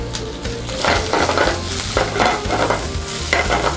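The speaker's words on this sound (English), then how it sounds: "We're gonna add the lobster and shrimp." Lobster and shrimp sear in a hot pan with blended oil, giving a loud, close, continuous sizzle with bursts of crackle as they are stirred, and no voices.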